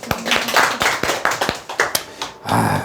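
A group of people at a sales lecture claps in a short, uneven burst of sharp hand claps close by, with a brief rustling pause before a final flurry.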